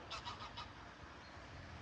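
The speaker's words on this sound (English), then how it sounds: "but we have geese" Four quick honks from geese by a canal ring out in a fast burst, moderately distant and faint over a low outdoor rumble, then fade to quiet ambience.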